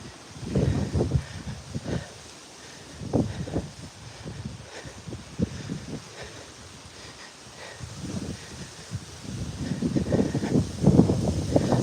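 Wind gusts buffeting a microphone on a very windy morning stroll along a highway, rising and falling rumbling bursts that swell louder toward the end, with no voices.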